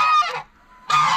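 Two loud goose honks close by, separated by a brief quiet gap.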